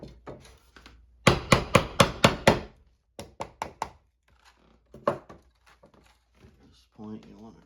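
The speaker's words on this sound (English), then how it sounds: "hammer it to about 1/4 inch" A rusty nail being hammered into a wooden beehive foundation frame: a quick run of six close, crisp strikes, then a softer cluster of four taps and a few scattered knocks, with someone talking faintly in between.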